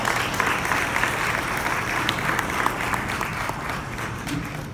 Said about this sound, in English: That deserves a round of applause for sure